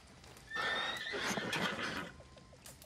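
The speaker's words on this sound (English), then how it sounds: "Horse." Horse in the video game Red Dead Redemption, set at a camp, lets out one loud whinnying neigh lasting over a second, followed by a few soft hoof clip-clops.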